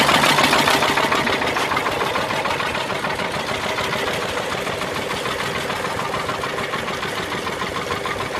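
A vintage Southern Cross stationary diesel engine with a water pump runs at a steam rally, a loud, steady rapid chugging and knocking close by that continues without pause.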